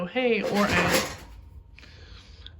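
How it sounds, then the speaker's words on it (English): A cat knocks over a box indoors, making a brief bumping clatter right after a voice speaks, followed by a fainter rustle. "That was the cat. She knocked over a box."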